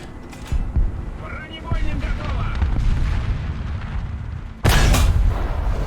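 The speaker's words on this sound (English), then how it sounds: "A cannon getting fired." A heavy tank cannon fires in War Thunder, a sharp loud boom near the end that stands out from a constant rumbling engine and battle noise, with earlier faint distant thuds.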